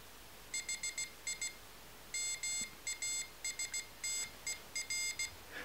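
A small piezo speaker driven by a Raspberry Pi pin gives short, sharp, high electronic beeps in irregular clusters of two to four, fairly faint against a low background hiss, with no voices.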